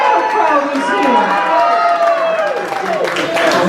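Audience cheering and clapping at a blues performance, a loud, steady wash of crowd noise with whoops and applause that stays dense for the whole stretch.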